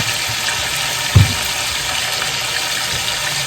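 Steak frying in a pan, giving a close, steady sizzle that runs evenly for the whole span, with one brief low knock partway through.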